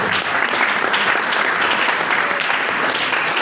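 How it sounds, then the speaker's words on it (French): A church congregation at a Sunday sermon bursts into loud, continuous applause, a dense roar of many hands clapping that stays steady and close from start to finish, with no voices rising above it. "Si tu es d'accord avec moi, on acclame très fort."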